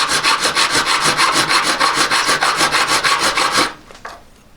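A hand file rasps across aluminium in quick, even back-and-forth strokes, about four per second, loud and close, before stopping into a couple of quieter scrapes.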